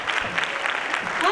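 Enthusiastic audience applause welcoming guests onto the stage at a school annual gathering, a dense steady wash of clapping from many hands, fairly loud and continuous.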